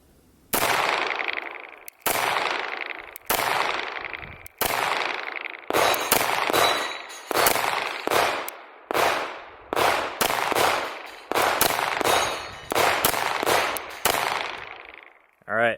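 A CZ SP-01 Tactical pistol fires Tula steel-cased ammunition, with about a dozen loud, sharp reports spaced unevenly at roughly one-second intervals, each trailing into a brief outdoor echo.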